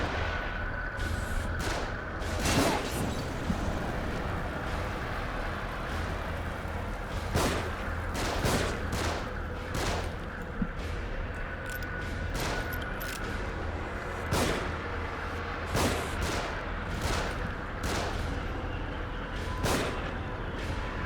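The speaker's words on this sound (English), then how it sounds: "Shooting from above." Repeated gunfire rains down from above during a tense combat stretch in The Evil Within, sharp bursts and single shots cracking at irregular intervals over a steady rumbling background, fairly loud throughout.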